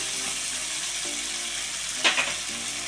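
Soaked green peas cook in a pan for a puri curry and are stirred through, giving a constant frying hiss with a brief spoon scrape and clink partway through.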